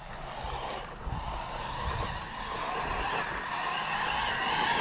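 Spark XB6 RC car skidding and grinding through sticks on rough ground, a continuous gritty scraping rush with a whining motor, close and fairly loud, with no voices.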